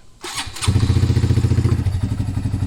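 A 2017 Honda Grom motorcycle engine starts with a brief crank, then settles into a loud, steady, close-up idle with a rapid pulsing beat.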